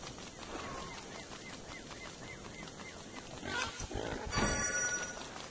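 Pig character in the video game Don't Starve, a series of repeated cartoonish grunts and oinks in quick rhythm over a steady game soundtrack, growing louder toward the end.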